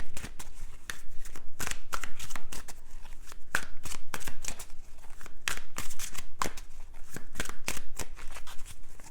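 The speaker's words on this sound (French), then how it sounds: "On va recouvrir les cartes." Tarot cards being shuffled and laid over, a rapid run of crisp riffling and slapping bursts that repeat steadily and close up, with no talking.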